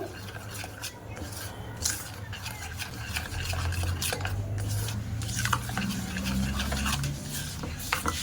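A spoon stirs a batter of semolina, palm and rice flour in a bowl, making continuous soft scraping and sloshing sounds with occasional clinks against the side, close and fairly quiet.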